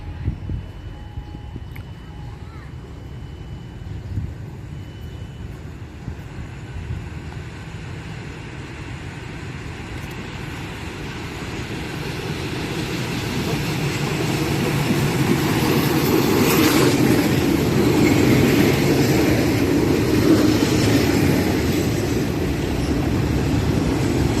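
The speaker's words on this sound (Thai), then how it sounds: "ขบวน 428 มาแล้วครับผม" Diesel railcar local train 428 arriving at Huai Thalaeng station in Thailand, a broad rumble that grows louder and nearer over the second half with platform ambience.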